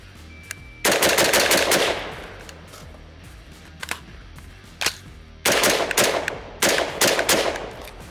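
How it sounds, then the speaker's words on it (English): A Primary Weapon Systems MK114 Mod 1 rifle, an AR-platform gun, fires outdoors in rapid strings of shots and shorter bursts, loud and close, with sharp echoing cracks between the volleys. "Shoot it a bit more here."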